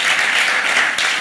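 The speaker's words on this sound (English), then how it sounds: "Another big round of applause for Manthia Diawara" An audience at a film premiere event in Athens applauding, a dense burst of many hands clapping together, close and loud for its short length.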